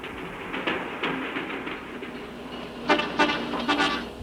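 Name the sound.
descending train passing in the Andes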